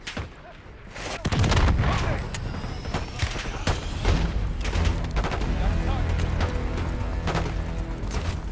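Heavy incoming mortar fire in Call of Duty Black Ops 6, with loud explosive booms and crackling gunfire from about 1 second on, filling the rest of the clip with dense battle noise.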